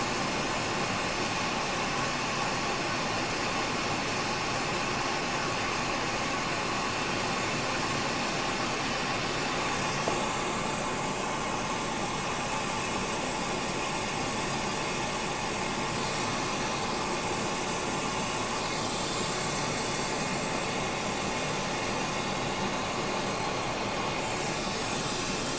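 A glassblowing torch flame heats glass while a spoon with a honeycomb bowl is shaped, giving a steady, loud, unbroken roaring hiss that holds through the whole stretch with only slight shifts in tone.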